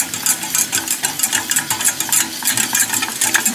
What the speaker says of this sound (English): But the key is to keep whisking it so it doesn't get lumpy